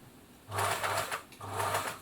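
A Singer 760 sewing machine running a test stitch, two short bursts of fast whirring, mechanical stitching close by with a brief pause between them.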